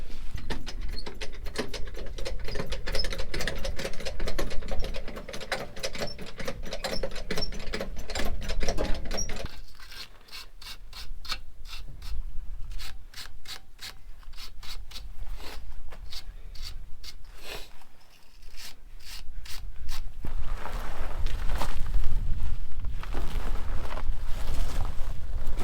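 A rattle gun and jack at work refitting a tyre: loud bursts of rapid impact hammering and ratcheting, stopping and starting in clusters with brief pauses between, close and harsh.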